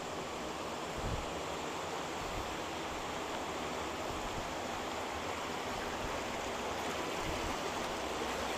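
Water from the Ciampea River flows through a channel into a fast-flow pond for farming pomfret fish in Bogor, making a steady, broadband rush that holds constant and close throughout, with no voices.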